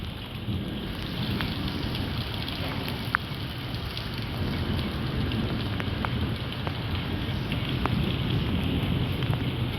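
Heavy rain pours down steadily, a dense, constant hiss and patter with occasional sharper drips standing out close by.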